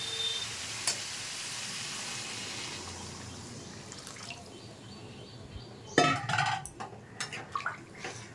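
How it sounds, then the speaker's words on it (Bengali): Water goes into a katla fish and potato curry in a pan: a soft wash of hiss fades, then a sudden splashy burst and several clattering, bubbling sounds follow near the end. "এবার ঝোলের জল দেবো।"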